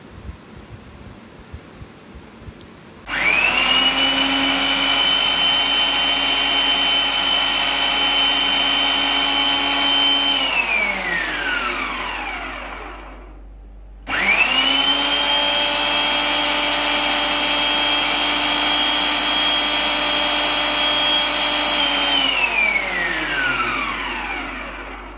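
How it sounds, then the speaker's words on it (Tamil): An electric food processor runs at high speed, finely chopping meat for chapli kebab, in two long loud bursts of steady whirring that wind down, separated by a brief pause. "அதுக்காக தான் இந்த ஃபுட் ப்ராசஸர் யூஸ் பண்ணுறேன்"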